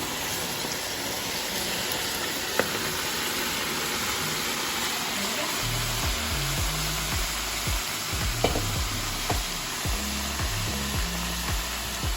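Fries sizzle in hot oil in a skillet with a dense, steady crackling hiss that holds throughout, and low clunks and bumps come in partway as the fries are piled and moved.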